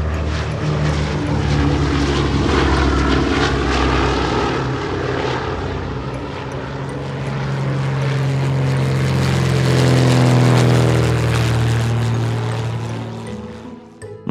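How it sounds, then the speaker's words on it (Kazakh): A propeller airplane drones loudly and close, its engine pitch shifting slowly as it passes, a sustained roar with no voices. "Бұл ұшақ."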